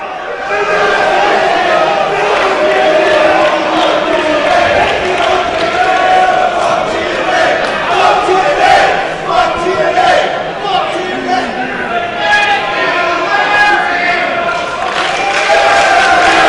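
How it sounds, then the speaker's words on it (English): Crowd roaring and cheering at a live professional wrestling event, a loud continuous swell of many voices with shouts and chants that holds steady throughout. "This may be the only time Larry Dallas has ever heard a cheer in his life."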